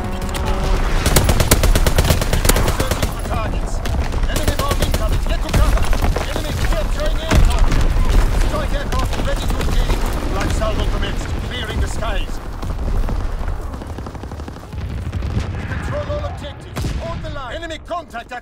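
Artillery battery firing in Call of Duty: WWII during a domination match, a dense stream of booming shots and gunfire at steady intensity under voiced game announcements.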